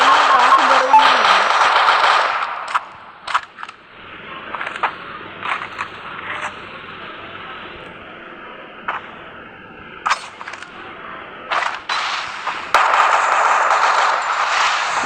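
Gunfire in the Free Fire mobile battle game comes in sharp automatic bursts and single cracks, loud and intermittent, separated by quieter gaps of low ambient game noise.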